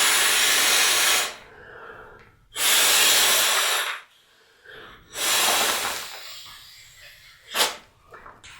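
Three long, forceful breaths blown by mouth into a Therm-A-Rest sleeping pad, each a loud rushing whoosh of about a second, separated by short pauses with quieter inhales, ending in a brief sharp puff.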